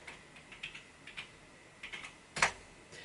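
Short bursts of keystrokes on a computer keyboard while typing code, soft clustered clicks in quick runs with pauses between, ending in one sharper, louder tap, all close and without speech.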